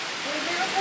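Steady rain falls in a continuous, even hiss throughout, with a voice faintly present beneath the downpour.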